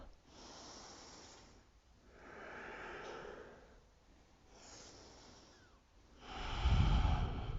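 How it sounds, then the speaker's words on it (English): Slow, deep breathing during a chakra breathing exercise, drawing air into the belly and exhaling. Long, soft breaths close to the mic in a steady cycle, ending with a louder, rougher exhale. "just breathe long and deeply as you move here"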